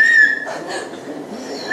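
A human voice imitates dolphin whistles with high, thin squeals and chirps, one at the start and another at the end, separated by a brief breathy vocal sound.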